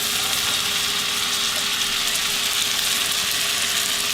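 Mushrooms and onion sizzle steadily in a hot pan while cooking Salisbury steak, a constant bright frying hiss with faint low clatter underneath.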